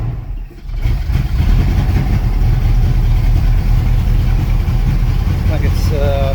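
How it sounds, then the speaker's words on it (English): A Pontiac Ventura engine, unstarted for three years, runs roughly on the choke with a loud, close, low rumbling idle that holds steady after a brief dip near the start. "If I pull the choke in a little bit, it runs better."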